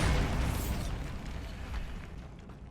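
A Bombarda spell blast in Hogwarts Legacy goes off with a loud opening boom, then rumbles and fades away with a little debris clatter.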